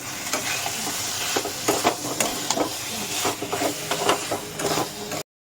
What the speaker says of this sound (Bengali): এবার ভাজা আলুগুলো এর ভিতরে দিয়ে দিচ্ছি।